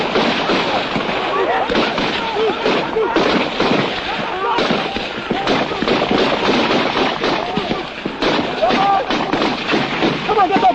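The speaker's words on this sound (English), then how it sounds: "Most of their bullets are going into the ground ahead." Gunfire in the Nigeria-Biafra war: a dense, continuous crackle of rifle shots and distant bursts from a battlefield, layered under ongoing speech throughout.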